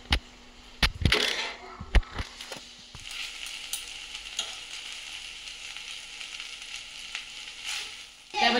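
Cooked noodles being tossed and mixed in a frying pan, with a steady sizzle, a few sharp utensil knocks early on, and a soft scraping hiss throughout; no speech.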